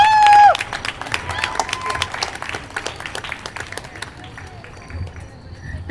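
Audience clapping for a speaker at an event, a loose burst of applause with some cheering that thins out over several seconds, with a brief tone at the start.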